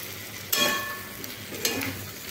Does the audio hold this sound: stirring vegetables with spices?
yes